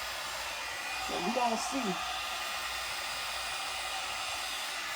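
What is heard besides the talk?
one step hot air brush drying and straightening hair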